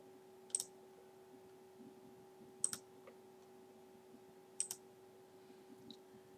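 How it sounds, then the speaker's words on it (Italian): A computer mouse clicks in quick pairs, three faint double clicks spaced a couple of seconds apart over a quiet electrical hum, with no talking. "Doppio clic."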